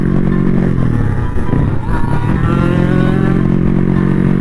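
A Kawasaki KR two-stroke motorcycle rides along a road, its engine droning loud and steady with a slight pitch shift midway, close to the listener and with no speech.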